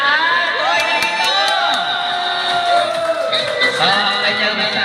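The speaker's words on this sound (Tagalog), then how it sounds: "palakpak naman lahat" A gathered crowd at a family celebration cheers and shouts with whoops and children's voices, loud and close, while voices carry over it throughout.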